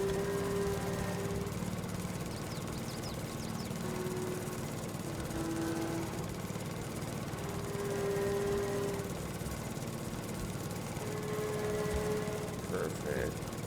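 Lawn tractor in Farming Simulator 22 mowing grass and climbing a steep hill, a steady low engine drone running throughout with a few faint tonal game sounds on top.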